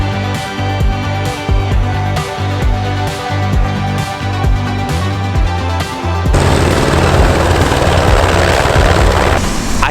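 Loud, close helicopter at Franz Josef Glacier, New Zealand, with a rapid rhythmic rotor thumping, then a sudden surge into a dense roaring wash of engine and wind noise.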